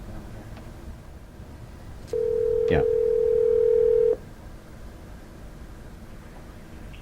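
A steady telephone tone on a call-back during a radio show, one flat sustained tone lasting about two seconds, loud and close, with a brief spoken word near the end.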